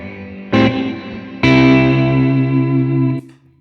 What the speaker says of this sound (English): So this is my room reverb, just basic patch stuff